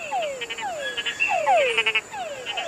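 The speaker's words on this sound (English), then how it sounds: "This noise is made by frogs. They're calling each other to make friends." Several frogs call close by in a forest, sending out repeated short descending chirps and quick trilling notes that overlap in an irregular chorus, loud and clear with no talk.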